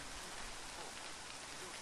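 Steady rain falls in an atmospheric video game, a soft, even hiss of drops that holds at a constant level for the whole short stretch with no voices over it.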